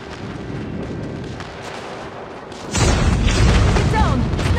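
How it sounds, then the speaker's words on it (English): Airstrike explosions in the Call of Duty Mobile game erupt suddenly as a loud, sustained wall of booming blasts after a steadier stretch of rumbling battle noise, with game voice callouts nearby. "Friendly airstrike incoming."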